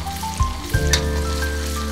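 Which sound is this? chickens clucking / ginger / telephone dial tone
ginger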